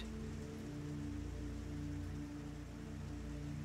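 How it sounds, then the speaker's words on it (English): Soft, steady rain falls outside a cozy café in Lisbon, a quiet continuous patter that stays even throughout with a low hum beneath it and no voices. "as the rain fell outside"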